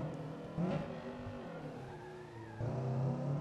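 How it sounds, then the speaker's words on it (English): A Honda Civic EG6 racing engine in Assetto Corsa revs and drones on a race track, rising and falling in pitch with brief louder bursts, slightly muffled and game-like. "This car sounds like a V8."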